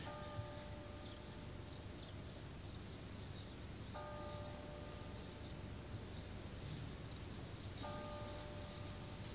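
A bell rings three times in the 1986 film Biggles: Adventures in Time, each strike a sustained ringing tone fading over a couple of seconds, evenly spaced under a loud hiss of background noise.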